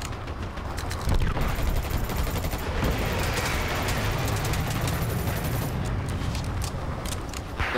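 Rapid bursts of gunfire ring out in the Dirty Bomb multiplayer shooter video game, with dense automatic fire and sharp cracks going on continuously for several seconds, with no talking.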